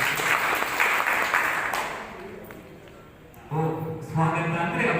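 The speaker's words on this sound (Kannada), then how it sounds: "ಅವರಿಗೂ ಚಪ್ಪಾಳೆ." An audience at a school function claps for a guest, with a dense burst of applause that fades after about two seconds, followed by a voice speaking.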